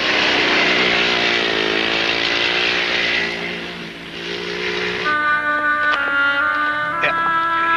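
A motor runs loudly with a raspy, buzzing drone that dips briefly, then gives way to steady tonal whining and clanks, with no clear talk.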